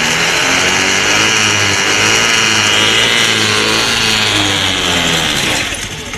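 A Honda Activa 6G scooter engine revs continuously during testing after a service, a loud, close, droning whine that swells and holds before easing off, with no talk over it.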